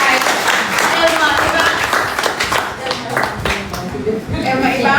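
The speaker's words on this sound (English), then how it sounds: "And now we invite your round of applause." Audience applause at a public gathering as the next speaker is called up: dense, steady clapping fills all five seconds, with crowd voices and cheering mixed in.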